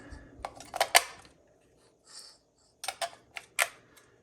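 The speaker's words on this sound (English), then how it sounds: "Now take my 3 charged batteries, put them in one at a time." Batteries pushed one at a time into the battery compartment of a Vivitar retro handheld game console, a few sharp plastic and metal clicks and snaps close by, in two small clusters with a quiet pause between.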